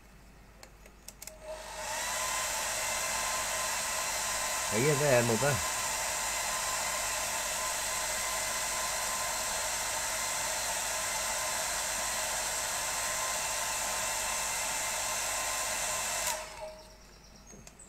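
A hairdryer blows steadily on wet acrylic paint for about fifteen seconds, a loud even whoosh that switches on and off cleanly, with a brief spoken question over it.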